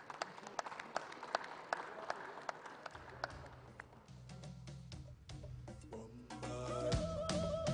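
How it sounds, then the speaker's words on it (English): Scattered audience clapping at a Ghana Music Awards launch and nominees party, sharp separate claps at first, then a low hum and musical tones rising beneath them, all fairly faint. "Please, let's give them a big round of applause."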